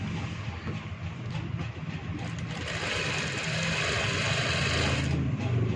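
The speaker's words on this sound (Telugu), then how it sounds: "ఈ మార్జిన్ పట్టుకొని కుడుతున్నాను నేను పైన." Sewing machine stitching a fabric collar, a steady continuous mechanical whir running close and fairly loud throughout, rising slightly in intensity in the second half, with no talking.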